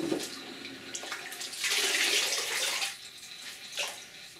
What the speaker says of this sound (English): We're going to kind of squish this out. I'm going to get rid of all this water.